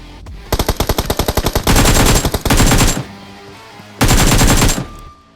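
Gunfire from a teammate in the BGMI (PUBG Mobile) Skyhigh Spectacle mode: a rapid automatic burst of about a dozen sharp shots, then two longer sustained volleys and one more after a short gap, loud and close.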